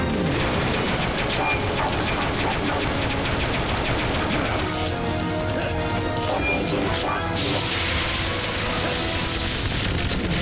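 Gunfire in the video game Metal Gear, a dense, loud barrage of shots and crashing impacts layered with game music, running continuously throughout.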